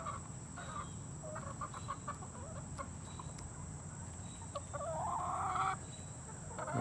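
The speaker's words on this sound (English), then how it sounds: "Believe it or not, we haven't named these Polish hens." Polish hens clucking in a backyard flock, a string of soft, scattered clucks and short calls at close range, with a louder run of clucking near the end over low background noise.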